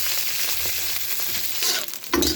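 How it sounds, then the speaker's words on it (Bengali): Potato and cauliflower pieces frying in hot oil in a pan give a loud, steady sizzle, with a scrape of stirring near the end. "সবার প্রথমে ফুলকপিটাকে একটু ভেজে নিচ্ছি, আলু আর ফুলকপিটাকে।"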